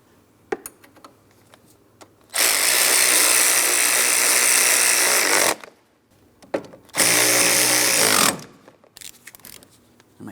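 Power tool snugging up mounting bolts on a radiator and condenser fan assembly of a 2004-2008 Pontiac Grand Prix, two loud steady whirring runs of about three and one and a half seconds, separated and surrounded by quiet clicks and handling.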